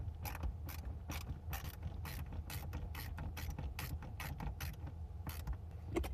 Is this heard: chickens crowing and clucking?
no